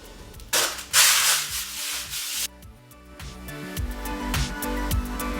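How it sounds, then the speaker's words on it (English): Sandpaper rubs against a concrete floor in several bursts of harsh scraping, smoothing irregularities, with quiet pauses and some tonal background sounds between strokes. "we have to see if there's some irregularities in the floor and then sand them away with sandpaper"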